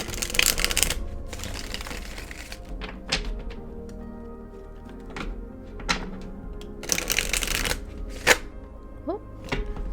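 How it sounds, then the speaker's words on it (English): Tarot cards riffle and slap in several bursts of rapid fluttering, interspersed with soft thumps and taps, close by with no talking. "Well, that was a crazy shuffle."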